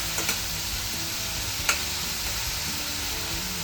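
Chopped onion frying in hot oil for an egg curry, a steady sizzle filling the clip with a few sharp clicks of a utensil stirring through it, close and alone with no voices.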